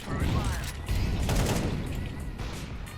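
Rapid bursts of video game gunfire, several shots in quick succession over a busy, loud background of game noise, with some muffled talking.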